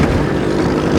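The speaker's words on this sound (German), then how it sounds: "Das ist ein Defender." A Land Rover Defender drives past on a Moroccan desert track, its engine and road rumble loud and close in a brief, steady wash of noise.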